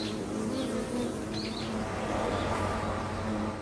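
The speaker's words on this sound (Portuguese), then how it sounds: "Ao ouvir o ruído das asas da vespa que vibram" A wasp's wings hum steadily near a beehive as bees come and go, a continuous low buzz filling the scene with faint chirps scattered above it.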